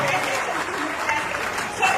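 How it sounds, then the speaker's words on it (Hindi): Audience at a company testimonial event applauding, steady dense clapping throughout at moderate loudness, with voices mixed in underneath. "जोरदार ताली होनी चाहिए"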